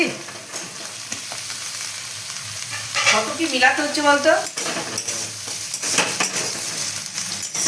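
Cabbage, tomato and capsicum with spices for pasta fry in a hot pan, giving a steady close sizzle with repeated stirring scrapes, and a voice briefly speaks midway.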